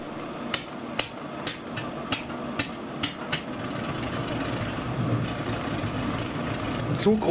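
An oversized pump in a Chinese-made home heating system knocks in sharp, irregular metallic raps over a constant mechanical hum, with the knocks fading into a steadier drone toward the end.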